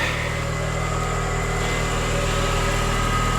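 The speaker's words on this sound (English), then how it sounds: "it's at high idle right now, startup idle" A PT Cruiser engine runs at high startup idle, a steady, even drone with a quiet exhaust, heard close and alone without any talk.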